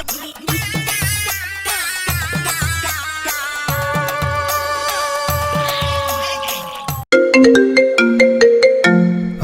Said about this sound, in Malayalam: ഇപ്പോൾ ഹോസ്പിറ്റലിൽ നിന്ന് ഫോൺ കോൾ വന്നിരുന്നു